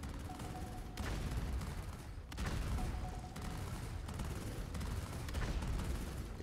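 Troops in the sci-fi real-time strategy video game Etherium fire at a target in dense, sustained volleys, a constant crackling barrage with periodic heavier impacts, moderately loud and continuing without pause.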